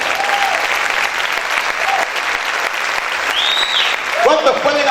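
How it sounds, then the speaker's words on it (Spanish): Church congregation applauding loudly, a continuous dense clapping crowd with scattered shouts and a voice rising near the end. "Aplaudan fuerte al Señor."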